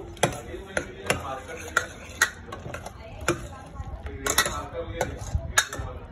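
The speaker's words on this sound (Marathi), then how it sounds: "आता गाईज आपण मोड आलेली मूग मटकी ॲड करू" Sprouted mung and matki beans go into a cooking pan with a string of clinking spoon and utensil knocks and scrapes, sharp and close, irregular in rhythm, under a soft voice now and then.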